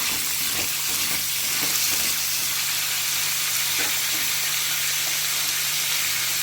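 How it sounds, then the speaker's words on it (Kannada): Pumpkin pieces and curry leaves fry in hot oil in a home kitchen, giving a steady, close sizzle with occasional stirring and scraping sounds, and no voices. "ಹಾಕ್ಬಿಟ್ಟು ಚೆನ್ನಾಗಿ ಈ ಥರ ಎಣ್ಣೆಯಲ್ಲಿ ಸ್ವಲ್ಪ 1-2 ನಿಮಿಷ ಫ್ರೈ ಮಾಡಬೇಕು"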